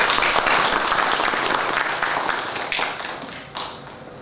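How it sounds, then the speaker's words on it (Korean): An audience at a disability awareness training session applauds to welcome a lecturer, loud dense clapping that slowly thins and fades, with a few last claps near the end. "큰 박수로 맞아주시기 바랍니다"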